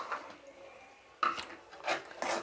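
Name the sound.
raw green peas being added to a cooking pan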